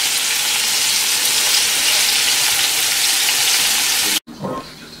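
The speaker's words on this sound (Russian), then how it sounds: "Рулетики обжариваю со всех сторон." Chicken rolls stuffed with mushrooms and cheese fry in a pan, a loud, steady, close sizzle that carries on without a break before cutting off abruptly near the end.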